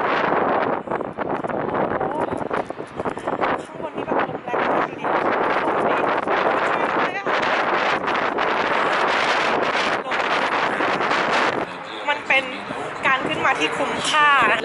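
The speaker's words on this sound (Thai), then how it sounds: "จะให้ดูความแรงของลมว่ามันแรงขนาดไหนดู" Strong cold wind roars across the microphone at the top of St. Isaac's Cathedral dome in Russia, a loud continuous buffeting rush with gusty bursts that eases slightly near the end.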